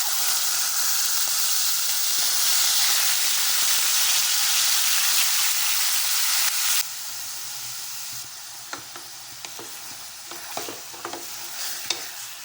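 Ingredients hit hot oil for mutton sambar in a home kitchen pan, giving a loud, steady broadband sizzle that drops to a quieter frying hiss partway through, with light stirring scrapes and clicks; no voices.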